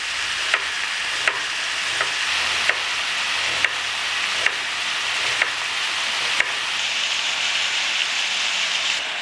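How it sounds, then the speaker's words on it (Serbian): Meat fries in a pan with a constant bright sizzle, close and loud, while a spoon stirs and scrapes the pan in regular sharp clicks about once a second. "Dok se meso prži"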